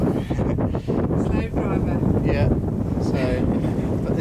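Gusty wind buffets a sailboat beating upwind in a breezy sea, with roaring rushes and wave wash, while voices speak briefly over the noise.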